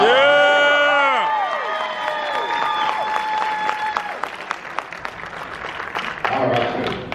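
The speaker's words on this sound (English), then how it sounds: "one more round of applause" Convention panel audience at a horror fan event applauding and cheering, loud whoops and shouts at first fading into sustained clapping, with a voice speaking over the crowd toward the end.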